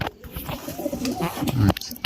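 Punjabi pigeons coo in a low, repeated rolling murmur, close and moderately loud, with brief chirps and some background noise throughout.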